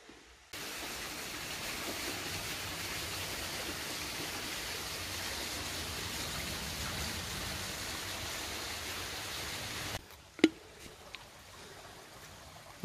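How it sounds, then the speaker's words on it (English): A small stream beside a steep canyon walking trail in the Blue Mountains, Australia runs with a steady broadband rush for about ten seconds, then drops off abruptly, followed by a few faint knocks. "You can hear the running water."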